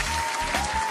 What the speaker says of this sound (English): Let me clap it up for y'all as y'all trickle in.